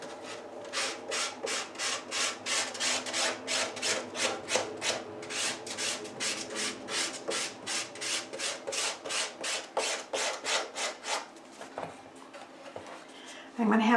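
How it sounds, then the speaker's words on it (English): Steady rhythmic rasping strokes of a multi-sided nail file's fine grit along the edges of a wood panel, close and regular, about two per second, fading to scattered scrapes near the end. "I'm just using a fingernail file that's got all these different sides on it."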